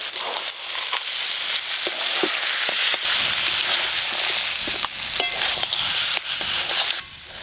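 Fried crabs and crab claws sizzling in a pan of spiced oil, a steady close crackle with a few scraping stirs, no voices.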